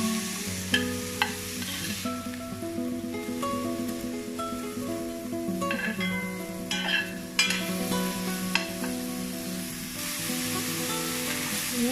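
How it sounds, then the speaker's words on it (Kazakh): Meat sizzles in a hot pan while being stirred, giving a continuous frying hiss with occasional scraping and clinking, and low background music throughout. "Міне мен етімді жақсылап қуырып жатырмын."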